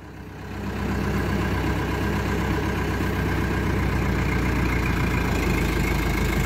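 A Renault forestry tractor's diesel engine runs at a steady, loud idle close by, a rough low rumble that swells during the first second and then holds constant, with no one talking.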